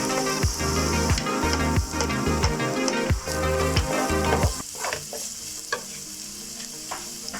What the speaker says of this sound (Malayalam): നമുക്ക് ഒരു സബോള ചെറുതായിട്ട് നുറുക്കി വെച്ചിട്ട് അതുകൂടെ അതിലേക്ക് ഇട്ട് കൊടുക്കാം.